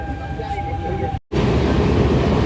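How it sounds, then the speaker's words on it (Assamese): A passenger train runs beneath the new Saraighat bridge with a loud, steady rail rumble, broken by a brief gap of near silence partway through. "আমি এতিয়া পালোঁ শৰাইঘাটৰ ব্ৰিজৰ তলেৰে গৈ আছোঁ ট্ৰেইন, এইখন নতুন দলংখন।"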